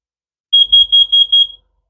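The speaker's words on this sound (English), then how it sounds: "Your first loud beep." A Tesla Model Y powered frunk emits five loud, evenly spaced electronic beeps in quick succession, each clear and sharp with no voices around them.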